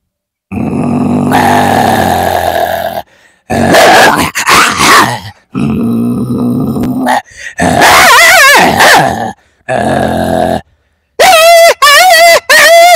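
A voice imitates a dog, giving a run of gruff barks and rough growls in separate loud bursts with short silent gaps, close to the microphone.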